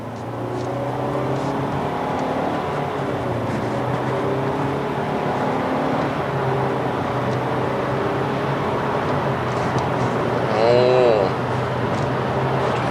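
Kia K3 (Forte), a 2019 All New K3, driving in sport mode, giving a steady low engine drone with road and wind rumble that holds constant throughout, with a brief rise near the end.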